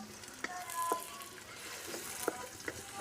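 Sliced onions fry in a pan until light brown for a Punjabi mushroom and peas curry, making a quiet, even sizzle broken by a handful of light spatula scrapes and clinks, with no voices.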